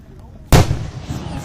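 A single fireworks blast at a Kansas show booms out suddenly and very loudly, a deep heavy burst that rolls and echoes away over low background murmur from the crowd.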